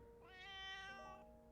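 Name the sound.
kitten meowing in the Piofiore video game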